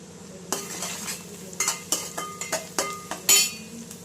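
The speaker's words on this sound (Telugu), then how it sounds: "ఆనియన్స్ మంచిగా వేగనివ్వండి." Chopped onions fry in oil with green chillies and curry leaves for a gongura curry, a soft continuous sizzle broken by repeated stirring scrapes and light metal clinks against the pan, close by and without speech.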